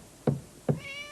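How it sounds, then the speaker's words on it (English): Two firm, hollow knocks on a door land about half a second apart, followed by a short cat meow. "He took it to Jessie's door and knocked"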